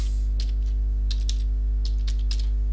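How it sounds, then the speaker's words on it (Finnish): Computer keyboard typing of a username and password: a few quick clusters of light key clicks, close and distinct, separated by short pauses over a loud steady low electrical hum. "tuonne käyttäjätunnusriville kirjoitellaan oma käyttäjätunnus, joka on monesti sähköpostiosoite"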